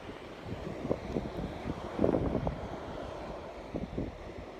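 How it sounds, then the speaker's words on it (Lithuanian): Gusty, cold wind buffeting outdoors near Dunkirk, a low rumbling rush with occasional stronger bursts, fairly faint and steady. "Tikrai vėjuota šalta"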